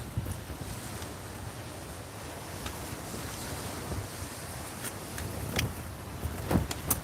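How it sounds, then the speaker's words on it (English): Choppy sea waves slosh and splash continuously while strong wind buffets the microphone, a steady rushing wash with intermittent sharper slaps of water, growing slightly louder toward the end. "It's starting to chop right up again. It's getting bassy, wind's increasing."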